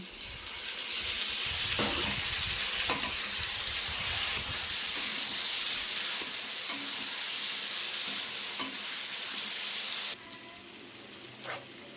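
Potatoes fry with a spice paste of ginger, cumin, coriander, chili and tomato, giving a steady, moderate sizzle. Occasional soft scraping knocks of stirring come through, and then the hiss suddenly quietens near the end.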